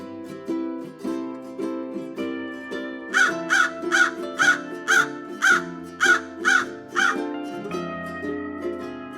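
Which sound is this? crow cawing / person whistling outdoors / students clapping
crow cawing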